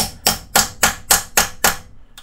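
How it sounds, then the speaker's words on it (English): A hammer taps an Allen key on the top end of a Suzuki Katana motorcycle engine, six sharp, evenly spaced metallic strikes, close and loud with no talking. "don't hit your tools with your hammer"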